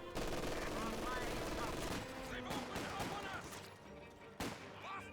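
MG42 machine gun fire in Company of Heroes 2 amid a wider battle, dense overlapping bursts and shots at moderate distance, continuous and fairly busy, mixed with other combat noise and game sounds.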